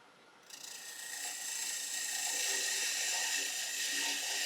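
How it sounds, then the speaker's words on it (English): A half-inch spindle gouge cutting laburnum wood on a lathe turning near 1400 RPM, a rising steady rasping whir that starts abruptly and holds, close up with no voices. "Just taking another little cut off. Again, that's little half inch spindle gouge."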